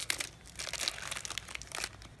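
Crinkly plastic LOL Surprise toy packaging is torn and crumpled open, close and brisk, in a run of irregular rustling bursts with short gaps.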